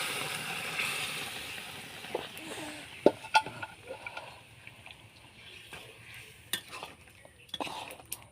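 Taro leaves (kochu shak) being stirred in a hot pan, with a soft sizzle fading beneath scattered utensil scrapes and knocks against the pan.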